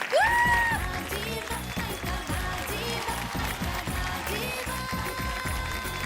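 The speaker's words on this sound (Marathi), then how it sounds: "जोरदार टाळ्या होऊन जाऊ द्या सुरेखाताईंसाठी" Loud applause from a TV studio audience in a Marathi dance show, swelling at once and holding steady for several seconds under bright background music.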